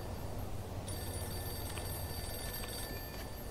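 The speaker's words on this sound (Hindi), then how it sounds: "फोन बजा फिर से, आज रात को बजा" Telephone rings in the Mafia 2 video game, a steady electronic ring starting just under a second in and continuing, fairly faint over a constant low background hum.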